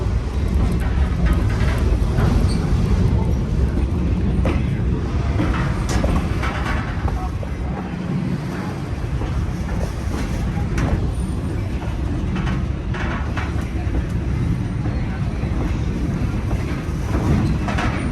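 A train runs on the Climax Branch rail line near Leadville, Colorado, with a loud, steady rumble and clatter of wheels on rails, constant throughout and heard from on board.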